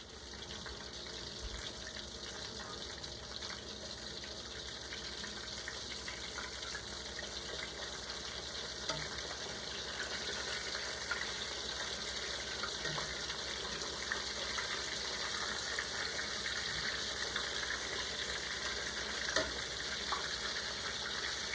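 Breaded veal cutlets fry in a pan, giving off a steady, even sizzle and hiss that carries on throughout without a break.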